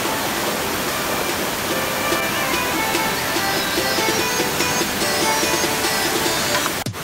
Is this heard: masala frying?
no